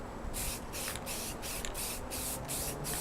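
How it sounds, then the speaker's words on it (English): Spray can or spray gun applies primer to a Yamaha RZ350 motorcycle fuel tank outdoors in wind, a series of short hissing bursts in quick regular succession with a faint background rumble. "I'm going to run outside, get a coat of primer on it."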